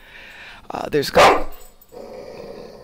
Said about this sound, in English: Sorry, that's the dog. That's the big dog.